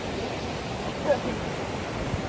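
Water rushing and flowing nearby, a dense steady hiss with no breaks, moderately loud and alone with no talk.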